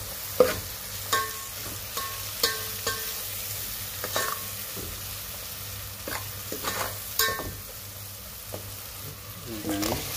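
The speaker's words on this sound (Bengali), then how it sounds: "কষিয়ে নেব ভালোভাবে, ফ্রাই করে কষিয়ে নিতে হবে তেলের মধ্যে" Dried fish curry with bean seeds, eggplant and potato fries in oil, a constant sizzle punctuated by repeated clacking and scraping stirs of a spoon in the pan, close and irregular, with no speech.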